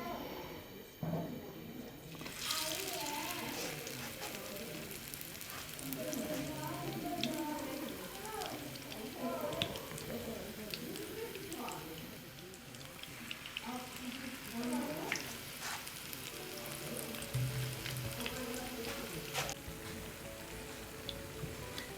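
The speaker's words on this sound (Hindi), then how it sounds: "बेसन के अमेज़े में दोनों साइड से डुबोएं और इसको फ्राई करते जाएं।" Besan-battered potato sandwiches fry in hot oil, giving a steady crackling sizzle that runs through the whole stretch, moderately loud and close, with occasional brief bursts.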